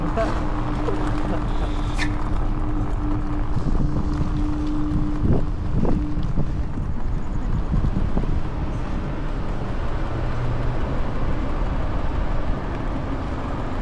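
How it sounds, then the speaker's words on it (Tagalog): Wind rushes steadily across the microphone during a night ride on a vehicle, a continuous buffeting roar mixed with low engine or road rumble and a few brief clunks. "Sarap ng hangin dito, malamig."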